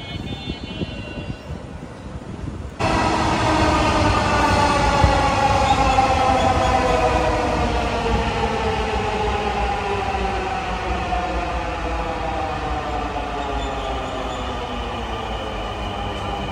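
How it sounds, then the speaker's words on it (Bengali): A Dhaka metro rail train, Bangladesh's first, runs loud and steady after a quieter opening, its rumble rising sharply at about three seconds and holding as a continuous roar with a rising tone, no voices. "বাংলাদেশে প্রথম মেট্রো রেল"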